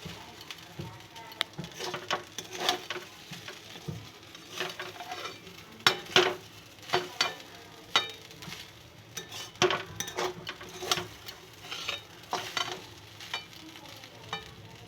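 Fried rice with ghee sizzles steadily in a pan while a utensil stirs and scrapes through it in repeated, uneven strokes, with occasional sharper metallic clinks close by.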